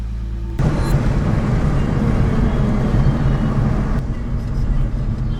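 A Lexus IS300 engine hums under a broad road roar as the car is driven, starting abruptly after a quiet moment and holding steady, muffled from inside the cabin, with a voice briefly over it.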